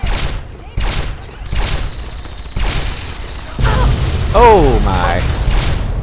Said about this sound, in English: Oh, somebody is shooting.